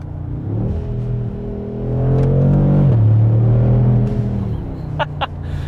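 An 800 hp 2020 Mercedes G63 AMG drives with a deep, steady engine rumble that swells as it accelerates and then holds, with a couple of brief high clicks near the end and no talking.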